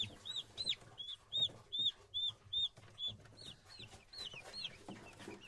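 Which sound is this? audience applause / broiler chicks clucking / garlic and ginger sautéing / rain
broiler chicks clucking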